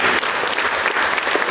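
Loud, dense applause from a crowd rolls on steadily and close, with no voices heard through it.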